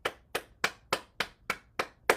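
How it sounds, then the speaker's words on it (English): Hands clap eight times in an even, brisk rhythm during a morning bouncing exercise, each clap sharp and close with nothing else heard. "Clap our hands to stimulate the heart."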